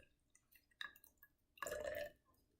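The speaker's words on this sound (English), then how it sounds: "I'm going to add 20 milliliters of filtered water into my beaker" About 20 millilitres of filtered water splashes briefly into a laboratory beaker for a copper solution: a short, fairly loud pour in an otherwise quiet room, preceded by faint clinks.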